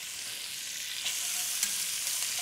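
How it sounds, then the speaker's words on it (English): Onions and other vegetables sautéing in a pan as the base for braised Alberta beef short ribs, a steady close hiss of sizzling with a couple of faint clinks of stirring. "We're going to want to saute these for a good 4 to 6 minutes."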